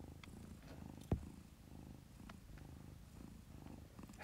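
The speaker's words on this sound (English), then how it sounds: "Purring." A Siberian cat's quiet, low purr rumbles in a steady rhythm, close by, with a single brief knock partway through.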